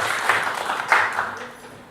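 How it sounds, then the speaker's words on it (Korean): Audience applause in a lecture hall welcoming a guest lecturer for a summer special talk on Korean Christianity, a short burst of clapping at moderate level that fades toward the end. "박수로 환영하고 가겠습니다"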